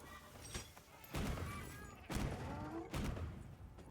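Gunlance shelling shots in Monster Hunter Wilds: three heavy, booming blasts spaced about a second apart, fairly faint beneath quiet game ambience.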